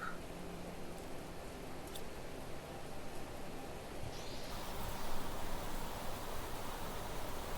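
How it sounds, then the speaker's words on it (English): Rain in the video game Planet Crafter, a soft steady broadband hiss of falling rain at low level, continuous with a slight swell toward the end and no talking. "But I just enjoy the rain."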